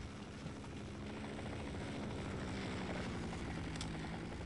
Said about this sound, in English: On the way to make sure that attracts the helicopter.